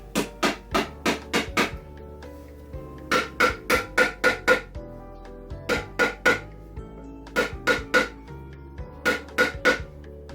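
A hammer taps a Varathane can lid down on a floor, in quick bursts of several sharp metallic knocks separated by short pauses, loud and close, with no talking.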